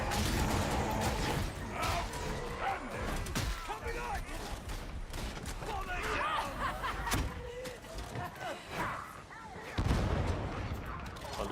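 Rapid gunfire and explosive bursts from machine gunners and snipers in a co-op shooter game, loud and dense throughout, with crashes and battle clatter layered under speech.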